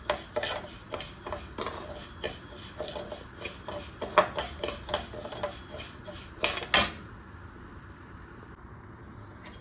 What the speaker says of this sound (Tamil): இது நம்ம வந்து ஒரு கடாயில் சேர்த்து வறுத்து எடுத்துக்கலாம்